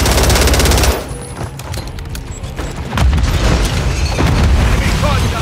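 Rapid bursts of automatic gunfire and booming explosions from an online Call of Duty MW3 match, loud and dense, dropping briefly before surging again, with game radio chatter mixed in.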